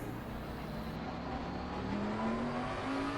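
Bentley GT3 race car engine at Donington in Assetto Corsa Competizione, a steady droning whine that climbs in pitch as the car gets back on the power, continuous and fairly loud throughout.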